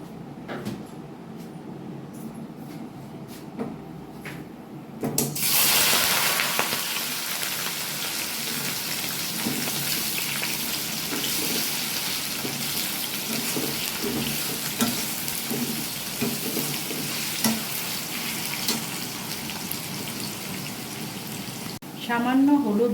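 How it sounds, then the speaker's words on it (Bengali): Boiled taro root dropped into hot oil in a wok, setting off a sudden loud sizzle that holds steady for a long stretch, with occasional stirring clatter and a muffled voice faintly underneath. "এবার যে কচুটা সেদ্ধ করে রেখেছি সেই কচুটা এখন ভালো করে এর মধ্যে ভেজে নেব।"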